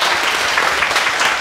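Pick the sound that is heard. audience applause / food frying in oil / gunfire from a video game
audience applause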